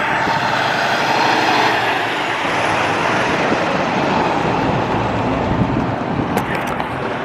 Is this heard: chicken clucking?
no